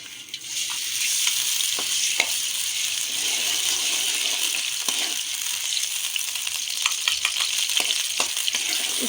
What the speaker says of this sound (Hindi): इसको अच्छी तरह से हम फ्राई कर लेंगे।